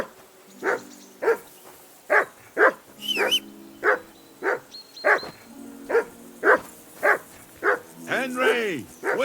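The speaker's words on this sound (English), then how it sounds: "Whistle at that mutt of yours to stop barking!" A dog barks repeatedly in a steady rhythm, about a dozen sharp barks close by, with whining tones mixed in toward the end, from the video game Kingdom Come: Deliverance II.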